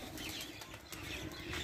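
Soft flurries of pigeon wings flapping on a village rooftop in Pakistan's Saraiki region, several quick beats against a steady outdoor background hiss, fairly faint and somewhat distant.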